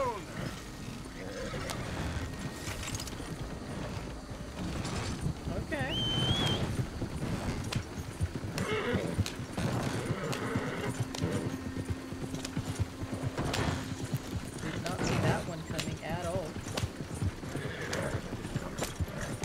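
Horse hooves clip-clop steadily in the Red Dead Redemption 2 video game, a continuous rhythmic trot over a busy background with occasional snorts or whinnies, and someone talks over it.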